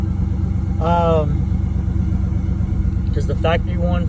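A 1989 Chevrolet Camaro engine idles after a cold start in cold weather, a steady low rumble running throughout while someone talks over it in two short bursts.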